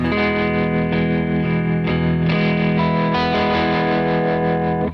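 A heavily distorted electric guitar rings out a sustained major chord, loud and thick with effects, restruck a few times over the span.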